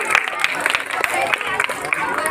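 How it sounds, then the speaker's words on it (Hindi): Audience at a school event applauding a guest speaker, a steady patter of scattered hand claps with crowd murmur and speech babble mixed in throughout. "सर के लिए जोरदार ताली होना चाहिए।"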